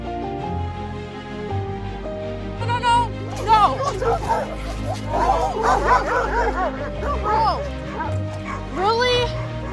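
A dog yips, whimpers and barks in quick excited bursts, close and fairly loud, over a quiet background bed of music.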